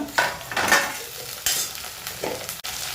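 Onions browning in a pan for tomato rice sizzle close up, with several bursts of stirring and scraping over a steady frying hiss.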